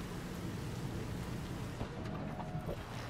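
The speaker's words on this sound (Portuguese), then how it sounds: "eu não ficaria nessa chuva" Steady rain in the Cyberpunk 2077 video game, a soft continuous hiss with low rumble throughout, fairly quiet and with no voices.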